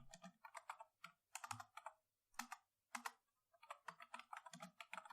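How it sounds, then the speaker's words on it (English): Close, quiet typing on a computer keyboard: clusters of crisp key clicks come in quick bursts separated by short pauses, with no voices. "I will hit enter and type on new line id int not null"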